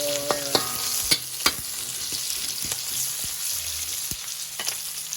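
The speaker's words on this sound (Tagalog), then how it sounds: "So, una natin halo is ang ating luya. Ang sibuyas." Ginger and onion stir-frying in a hot pan, with steady sizzling under sharp clicks and scrapes of a utensil stirring against the pan, close and continuous.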